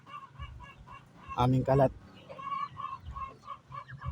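A neighbour's duck in a rural yard, giving a loud burst of honking quacks in the middle, with softer calls around it and a person speaking.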